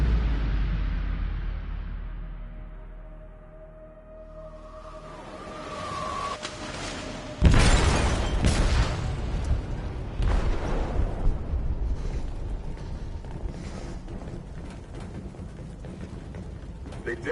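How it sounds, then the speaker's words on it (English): An explosive detonates in a ship's hold in Detroit: Become Human, a sudden heavy boom that breaks into crashing, rumbling wreckage after a quieter stretch of tense ambience and fading tones. "They detonated an explosive in the hold."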